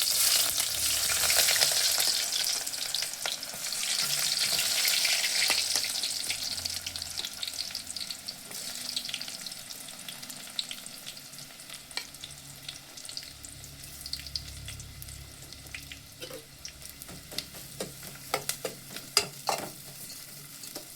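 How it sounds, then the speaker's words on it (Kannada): Sliced onions frying in a pan for egg biryani, a steady broad sizzle that is loud at first and then settles, with repeated scraping stirs and clicks of a spoon against the pan. "ಈಗ ಈರುಳ್ಳಿ ಹಾಕಿ ಚೆನ್ನಾಗಿ ಫ್ರೈ ಮಾಡ್ಕೊಳ್ಬೇಕು."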